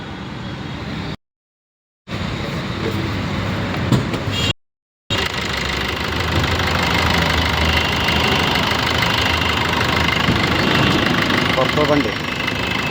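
A 2016 Maruti Brezza ZDI Plus diesel with push-button start fires up and settles into a steady, rumbling idle, close and continuous after two brief breaks, with a voice talking over it.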